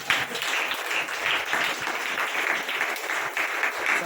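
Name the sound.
applause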